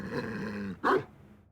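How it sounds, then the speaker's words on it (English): A dog in the Ace Attorney Investigations 2 video game growls low and steadily, then lets out one short loud snarl or bark before falling quiet. "Dog!"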